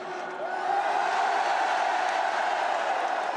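A large outdoor crowd at a political rally at the Trocadéro in Paris roars in steady, sustained cheering that swells after a moment and holds as a dense wall of voices.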